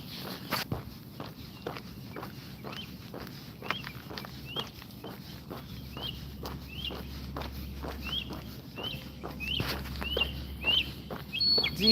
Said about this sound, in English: Do you hear those birds?